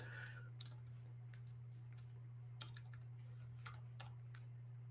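Scattered keystrokes tap out a password on a computer keyboard, soft irregular clicks in short bursts over a steady low electrical hum, close and faint with no talking.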